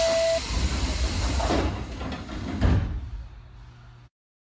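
Train departing a station, with a hiss of air and doors sliding shut over a rumbling engine, followed by a brief thud before the sound cuts off abruptly.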